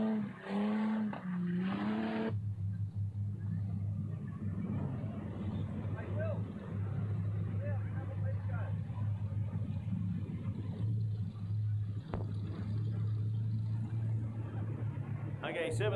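V8 dirt modified race cars circle a Lismore speedway dirt track in 1999, a steady distant engine drone running throughout under an announcer's amplified talk.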